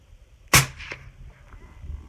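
A single sharp report from a suppressed .338 rifle, the second shot of a string, cracking loud and close before a short decaying tail and quiet background.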